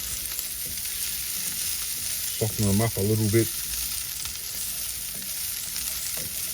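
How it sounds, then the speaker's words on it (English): Steady, quiet sizzling of sausages frying in a pot, with a short stretch of talk partway through. "So they'll just take a few minutes of frying up"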